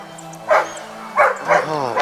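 A large dog on a rural plot of land in Seongju, Gyeongbuk, barks three times in quick succession, loud and fairly close, with no talk over it.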